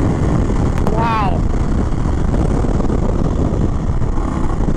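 A 2021 Indian Chief Bobber Dark Horse V-twin motorcycle running on the road, a steady engine rumble heavily mixed with wind buffeting against the microphone, with a brief voice near the start.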